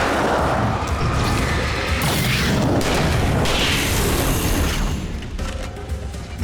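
Flashbang going off in Alan Wake Remastered: a loud booming burst with crashing noise, followed by a lingering ringing wash that sustains and decays over several seconds.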